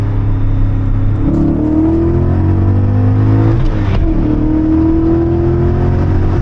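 A BMW M5 with around 400 horsepower accelerating hard in second gear, a loud, close engine roar whose pitch climbs steadily, drops briefly at a shift, then climbs again under a steady rumble.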